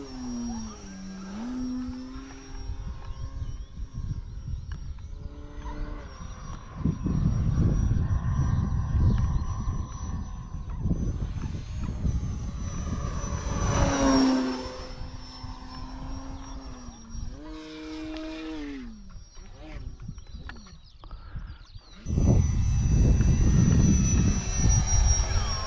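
Modified FMS 1700mm Super Cub RC plane with its electric motor at power, a steady whine that rises and falls in pitch as the throttle changes, with louder surges of wind noise in between.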